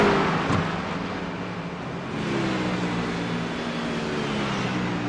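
Several BMW race car engines in the iRacing sim at Spa-Francorchamps drone steadily and loudly, with a sustained engine roar and faint pitch shifts as the cars run.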